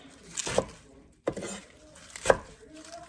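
A knife chopping greens on a board in a home kitchen, three separate crisp chops spaced apart with quiet between them.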